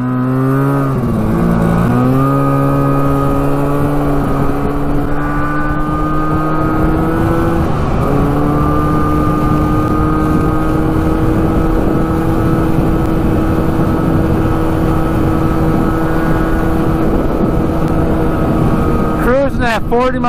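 A street-legal 340cc two-stroke trike drones loudly on a longer ride, its engine note holding steady after a brief dip and rise early on, with a rev change near the end and wind rushing throughout.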